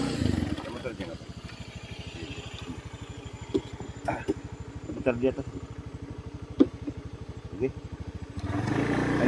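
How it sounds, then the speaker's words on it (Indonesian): Motorcycle ridden along a long forest road, its engine putting steadily at close range with a regular low pulse, while people talk briefly over it and small clatters and bumps break in. "kita terpaksa menggunakan kendaraan sepeda motor karena memang jalannya cukup jauh"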